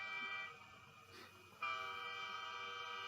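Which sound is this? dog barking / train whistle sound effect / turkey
train whistle sound effect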